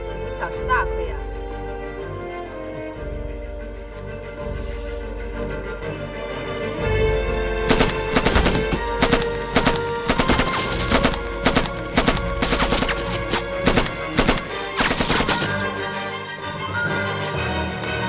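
Light machine gun fire in a Chinese anti-Japanese war drama: repeated loud, sharp bursts of rapid shots over several seconds, set among dramatic music and voices.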